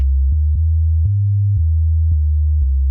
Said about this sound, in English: Select basic shapes and start with a sine wave.